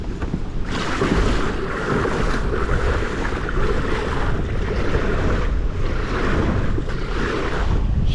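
Strong wind gusts buffet the microphone on the Des Plaines River during kayak fishing, a loud, continuous roaring rush with surging swells and water noise, no voices.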